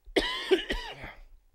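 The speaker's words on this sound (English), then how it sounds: "Now I'm having a coughing fit." A person has a coughing fit: three or four harsh, close coughs in quick succession with a short throat-clearing tail, alone and loud.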